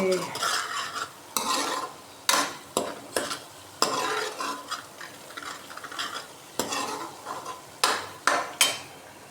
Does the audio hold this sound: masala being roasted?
yes